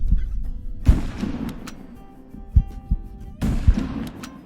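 Gunshots from a Winchester Model 70 Extreme Weather rifle in Hunting Simulator 2: two loud, sharp reports with booming tails, separated by a few fainter thumps and low rumble.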